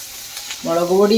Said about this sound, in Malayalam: ഇതെല്ലാം കൂടി ഒന്ന് വഴറ്റണം.